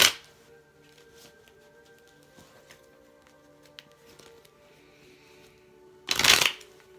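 Tarot cards are shuffled in one quick riffling burst near the end, after a mostly quiet stretch with faint hum and small clicks.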